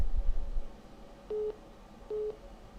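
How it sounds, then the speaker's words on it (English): Two short, evenly spaced electronic tones of a phone call signal come through a call-in sports show line, each about a quarter second long over a low background hum, with no voices. "Oh, we got a phone call right now."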